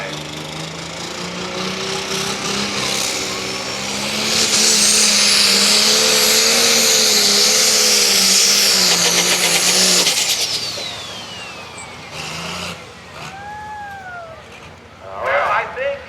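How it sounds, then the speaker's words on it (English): A John Deere tractor engine roars at a truck and tractor pull, a steady loud drone with harmonics that rises and then sags as the revs drop, with announcer-style talk and crowd noise around it. "You can hear the engine starting to lose a few RPMs."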